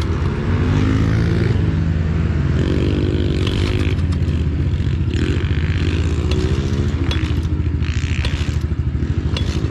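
Small pit bike engine running in gear in a backyard: a loud, close, rapid motorcycle putter with a steady idle pulse, rising now and then into brief revs, with some clattering scrapes on top.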